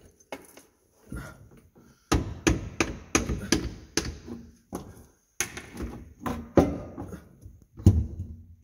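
A rubber mallet knocks on a Dodge Ram 4x4 driveshaft to break it loose, giving a series of sharp, close taps spaced about half a second apart, with a short pause partway through.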